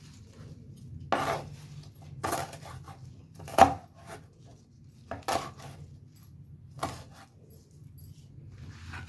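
Mustard greens being cut on a board for saag pickle, with about six sharp, separate chops spaced a second or so apart over a low background hum.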